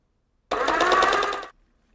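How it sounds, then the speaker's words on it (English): Synkmark notification sound marking the start of bookmark syncing on a computer, a single buzzy, rattling tone lasting about a second, clear and alone against silence. "there will be another sound indicating that Synkmark has begun syncing"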